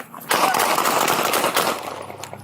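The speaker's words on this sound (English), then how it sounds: "24 shots fired" Police gunfire during a confrontation with an armed robbery suspect: a loud, rapid volley of shots fired close together in a sustained burst that tails off, heard over background commotion.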